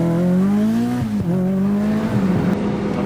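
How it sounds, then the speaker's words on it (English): Ford RS200 Group B rally car engine revving hard under throttle, a loud continuous close-up drone with pitch climbing, briefly dipping near a gear change, then rising again. "we'll see if we can open up the throttle in just a little bit to get that Group B push"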